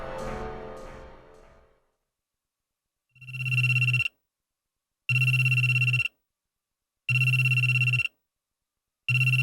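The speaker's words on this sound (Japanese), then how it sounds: "翌朝、いきなり携帯が鳴った。" A mobile phone ringing in the visual novel G-senjou no Maou: after a fading musical phrase, a sharp electronic ring repeats in even bursts of about a second separated by silence, loud and close, no talk.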